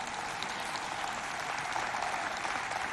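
A dense wash of clapping from a sizable crowd, steady and sustained without breaks.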